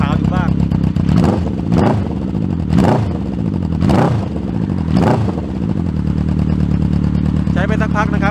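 A rebuilt Honda CB750F custom motorcycle engine with a new cylinder block, pistons and rings idles loudly nearby, blipped up in four or five short revs before settling back to a steady lumpy idle, with someone talking over it.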